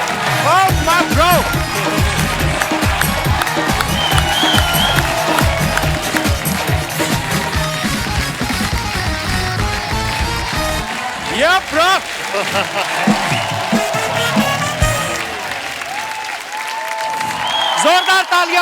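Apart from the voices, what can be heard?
audience applause for Kartik Aaryan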